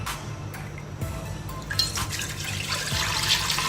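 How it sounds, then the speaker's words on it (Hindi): Milk poured into a cooking pot for kheer, a soft steady liquid stream and dribble running alone at a moderate level throughout. "इसके लिए सबसे पहले हम अपना दूध डालेंगे।"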